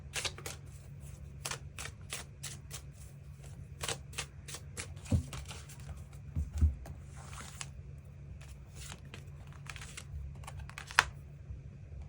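Tarot cards are drawn from a deck. Close, crisp slapping and shuffling clicks come in irregular bursts throughout, with a brief soft brushing swipe midway. Low room hum sits underneath.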